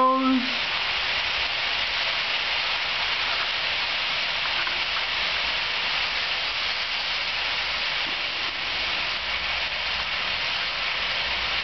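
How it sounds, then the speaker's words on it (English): A train passes close by with a constant loud rushing hiss and rumble, with a brief tonal note at the start, and steady noise for nearly twelve seconds. "There goes the train."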